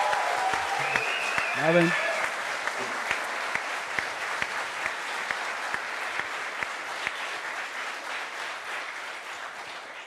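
Sustained studio audience applause on a German sports TV show, filling the clip, with a brief spoken greeting near the start over the clapping.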